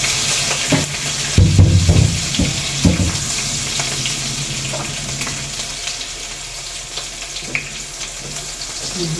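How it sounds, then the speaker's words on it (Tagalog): Ingredients sizzle as they are sautéed in a pan before fresh mushrooms go in, a steady close frying hiss with stirring knocks and clinks that are louder early on, with no talking. "Yan po tayo po ay magigisa na."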